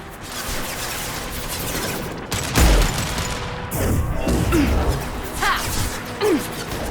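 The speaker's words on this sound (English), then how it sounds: "Firing concussive shot!" Concussive Shot fired during a Mass Effect 2 firefight: a heavy, loud impact burst lands amid steady battle rumble, followed by further crashes, whooshes and scattered hits.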